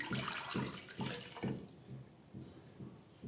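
A litre of water runs and splashes steadily into a pot for chicken biryani, a close, continuous pouring sound with slight gurgling pulses.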